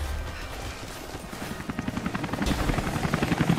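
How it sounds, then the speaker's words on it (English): Helicopter in Rise of the Tomb Raider, a loud rotor thump that builds into a fast, steady chopping pulse over a low engine rumble, close and alone with no talk. "What is this with the chopper?"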